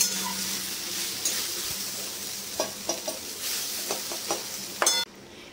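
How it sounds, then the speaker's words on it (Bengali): Food frying in a hot pan (kadai) to dry out its moisture, a steady sizzle broken by several sharp clinks and scrapes of a spatula stirring against the metal, close and fairly loud with no talk. "তবুও যদি জল থাকে তার জন্য একটু ভালো করে ভেজে নিচ্ছি"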